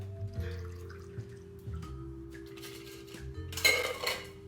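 Margarita cocktail poured into a glass, with close clinks of glassware and ice, a brief trickle of liquid and a louder rattle near the end; no talking.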